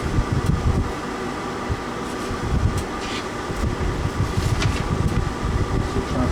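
An Englander pellet stove's blower fan runs with a steady, dense whir and rumble, loud and close, holding even for the whole stretch with no voices.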